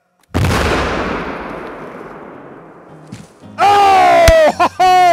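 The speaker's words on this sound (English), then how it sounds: "I love explosions, and falling tree is also beautiful." Swedish dynamite blasts to fell a tree, one sudden loud close explosion whose rumble decays over about three seconds, followed by loud shouting and exclaiming voices.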